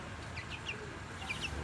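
Twenty-two-day-old Sweater gamefowl chicks cheeping in short, high, close peeps, two small clusters of three or four calls over a steady low background hum.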